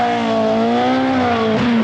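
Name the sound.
Opel rally car driving through mist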